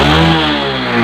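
A Honda Revo Absolute motorcycle with a failing regulator-rectifier runs with a loud, steady engine drone for about a second, then abruptly cuts out as it dies.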